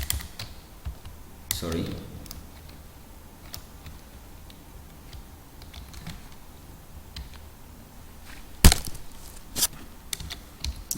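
Sparse keyboard clicks and taps at close range, with a few sharper knocks and a brief spoken word partway through.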